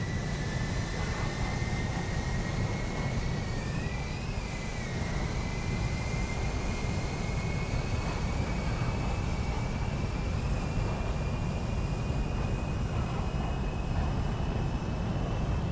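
Jet aircraft engine in the War Thunder flight game during an air realistic battle, a steady loud roar with a high whine that bends slightly in pitch, continuous throughout with no talk over it.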